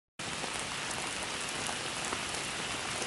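Heavy rain pours down in a dense, steady hiss that begins abruptly after a brief silence and continues unbroken and evenly loud.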